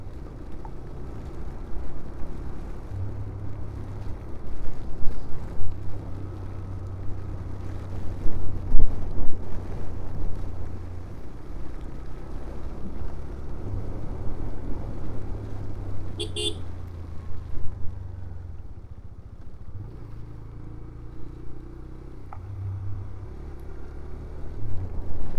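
A car drives along a misty forest road near Rautwadi waterfall at Radhanagari, Kolhapur, in the monsoon. A low engine rumble with wind buffeting on the microphone runs throughout, and a brief horn toot sounds partway through.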